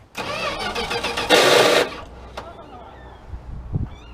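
An old truck's starter cranks a tired starter drive for about two seconds, a loud, steady grinding churn that then stops, leaving quiet shuffling and small knocks.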